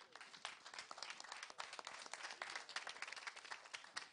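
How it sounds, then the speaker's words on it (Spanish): Audience applause at a chef festival awards ceremony in Villa Pehuenia, a dense, steady patter of many hands clapping throughout, fairly distant and even in level. "un aplauso fuerte para todos ustedes."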